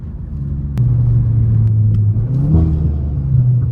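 A Volkswagen MK8 GTI's engine and exhaust hum at a steady, loud, low drone with a brief lift as it accelerates, close and continuous with no talking.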